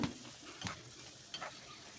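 Curry gravy bubbling in a pan while being stirred, a faint, soft sizzle with a few quiet scraping strokes of the spoon.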